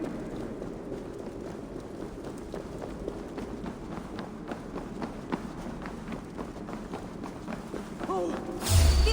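Footsteps in the video game Assassin's Creed Valhalla, a dense run of rapid thuds like many running feet, steady throughout and fairly loud. A heavier burst comes at the end, and voices may sit underneath.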